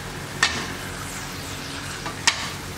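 Fish frying in a pan in a home kitchen, giving a continuous hissing sizzle with two sharp crackling pops, close and fairly loud, with no talking.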